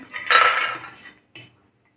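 Metal utensils clatter against a plate as fried sandge, dried lentil dumplings, are moved out of a pan in a home kitchen, a dense burst of clinks followed by a brief pause and one last short clink.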